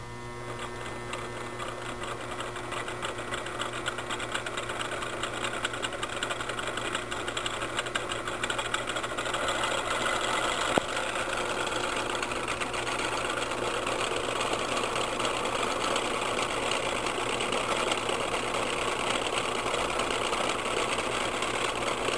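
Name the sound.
three-phase AC induction motor running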